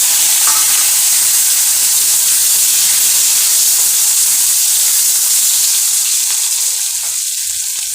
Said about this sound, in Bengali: একই তেলে এবার আলুগুলোকে ভেজে নেব।